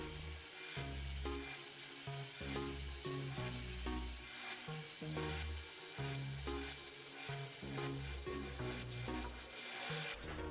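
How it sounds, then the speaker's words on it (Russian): A wooden workpiece is sanded in the workshop with repeated rough rubbing strokes in a steady back-and-forth rhythm, close and fairly quiet, with no talk. "Теперь немного шлифовки."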